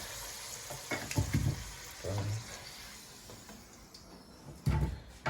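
Potatoes being browned in a pan for kazan kebab, a soft sizzle with clinks and stirring knocks, moderately quiet and close.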